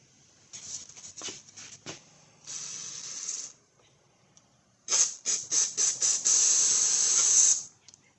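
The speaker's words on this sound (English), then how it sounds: "Let's get some more carburetor cleaner on it." Carburetor cleaner sprayed onto the corroded carburetor of a Husqvarna HU700L lawnmower that sat unused for years: several short hissing spurts, then a long steady spray and more bursts, close and loud, with no talking.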